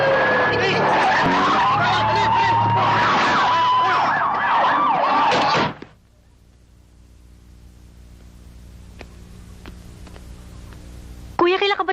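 Police car siren wailing loudly with screeching, skidding tires for about six seconds, then near silence with faint clicks before another loud burst at the end.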